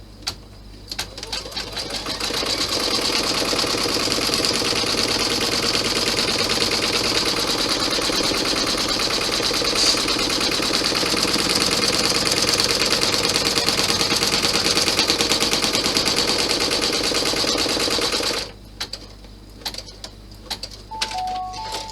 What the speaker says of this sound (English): So you stitch out your placement guide first.